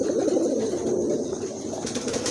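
A pair of pigeons kept for sale coos in soft, continuous low murmurs, close and steady, with faint background hiss.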